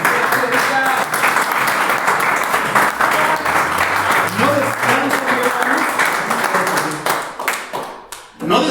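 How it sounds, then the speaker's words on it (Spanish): A church congregation breaks into sustained loud applause, dense clapping filling the room for several seconds with voices mixed in, tapering off near the end. "¿Por qué no darle una ofrenda de palmas?"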